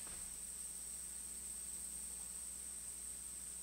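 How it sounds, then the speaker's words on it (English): Steady high-pitched hum of cicadas and crickets, a continuous insect drone at even loudness throughout with no pauses. "it seems that to be that same hum of cicadas and crickets"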